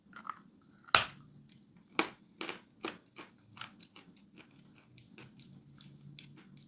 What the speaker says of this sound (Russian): Откусывается довольно нелегко от большого куска.